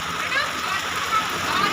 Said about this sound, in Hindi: अब देखिए बारिश एकदम तेज़ होने लगी है